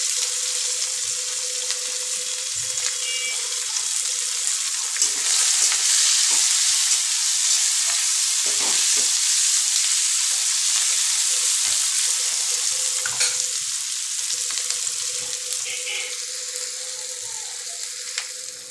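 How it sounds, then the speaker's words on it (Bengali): Onions frying in a pan until browned, a loud, continuous sizzle up close with occasional spatula stirs and clinks against the pan, no talking. "পেঁয়াজগুলো আমি বাদামি কালার করে ভেজে নেব।"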